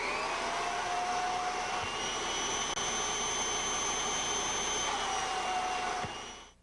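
A Kirby G5 vacuum cleaner runs steadily and loudly, a continuous whining motor roar with a high tonal pitch that dips briefly and then recovers, holding alone throughout with no talk.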